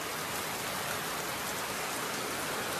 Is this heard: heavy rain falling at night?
yes